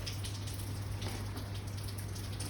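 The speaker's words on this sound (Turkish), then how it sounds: "suyu açıp çizgileri kadar dolduruyorsunuz" Tap water runs into a container, making a steady, even splashing hiss that continues throughout without pause or talk.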